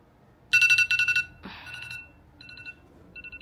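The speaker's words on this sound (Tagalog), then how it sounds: "My alarm's gone off now." A phone alarm goes off indoors in a spare room, a loud repeating electronic melody of bright beeping bursts, pausing briefly and then resuming with shorter quieter chirps.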